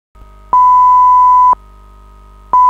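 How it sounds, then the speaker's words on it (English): A fire alarm sounds on the Tordenskjold offshore installation after a hydraulic power unit fire, a loud, steady electronic tone pulsing on for about a second and off for a second over a low background hum. "The fire alarm goes off"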